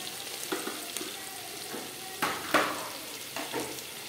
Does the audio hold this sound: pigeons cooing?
no